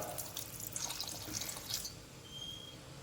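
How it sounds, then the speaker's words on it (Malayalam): Water pours into a pan of fish being cooked, a soft splashing trickle for about two seconds before it stops, followed by quiet. "അല്പം വെള്ളം ഒഴിച്ചു കൊടുക്കാം."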